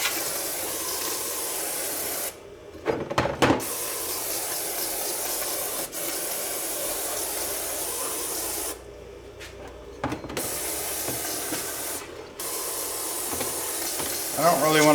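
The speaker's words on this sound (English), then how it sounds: "Just gonna spray this down." An aerosol can sprays in long, loud hissing bursts close up, with short breaks between sprays and faint clicks in the gaps.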